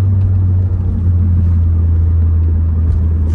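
Modified Volkswagen car with its exhaust rumbling steadily, producing a loud, deep, continuous drone heard close up with no talking and little change in pitch.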